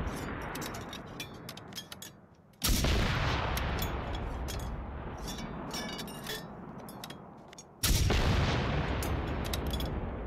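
Rapid gunfire in Generation Zero tearing down walls: sharp, repeated shots with two sudden loud crashing bursts as the structures give way, each followed by sustained roaring debris noise.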